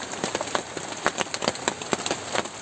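Heavy rain patters nearby on a surface in dense, uneven bursts of drops, with a faint hiss beneath them.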